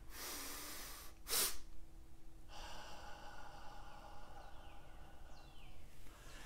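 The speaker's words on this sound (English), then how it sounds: "one full inhale, followed by another short inhale through the nose, and then one long exhale through the mouth" Breathing exercise: one full inhale and a second short inhale through the nose, then a long exhale through the mouth, heard as a sharp close sniff followed by a steady, drawn-out airy breath, with no speech.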